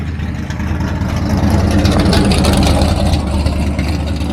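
A Ford Mustang V8 engine running at a European drag racing event, a loud, steady deep rumble close by that holds an even idle-like drone throughout, with no voices.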